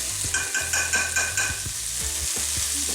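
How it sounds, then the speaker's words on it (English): Chopped garlic sizzles steadily in a hot pan while a utensil scrapes and stirs it in irregular strokes, close and moderately loud, with no talking. "you want to stir that around. You do not want your garlic to burn."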